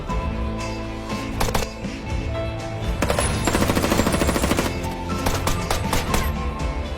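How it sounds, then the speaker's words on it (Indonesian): Gunfire from a film shootout crackles in rapid bursts and single shots, loud and close over a dense, dramatic soundtrack, with the heaviest volley in the middle. "Terjadilah tembak-menembak."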